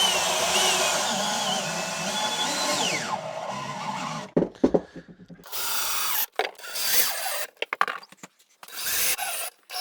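Screws are driven into wooden boards with a power drill in a tobacco-drying barn kitchen build, a long continuous whine followed by several short, stuttering bursts as each screw seats.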